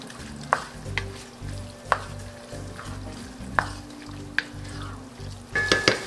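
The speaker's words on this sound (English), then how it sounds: "So just give it a little mix here." Gravy mixture for shepherd's pie being stirred in a pan, a soft sizzle running underneath while a utensil clinks against the pan every second or so, ending in a quick cluster of scrapes.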